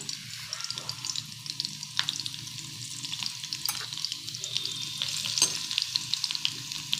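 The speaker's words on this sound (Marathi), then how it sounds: "तेल गरम झालं की त्याच्यामध्ये आपण लसूण घालून घेऊया" Garlic frying in hot oil for a Marathi-style sev bhaji, a steady close sizzle with crackling pops throughout, no voices.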